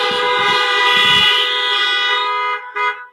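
Several car horns honk together in a long, loud, sustained blare lasting over two seconds, then one shorter honk follows after a brief gap. The honking is close by and there is no talking.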